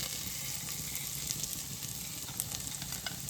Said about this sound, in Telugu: నెయ్యి వేడెక్కాక జీలకర్ర వేయాలండి కొంచెం ఆవాలు తర్వాత అల్లం ముక్కలు